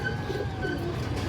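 A short, soft coo comes from a full tota-shaped pigeon with jam-coloured feet and a mark in its eye. The call is close and steady and lasts only a moment.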